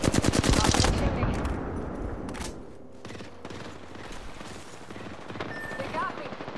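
Rapid automatic gunfire bursts loudly at first in Apex Legends, then gives way to scattered distant shots and battle clatter, with a voice talking over the fighting.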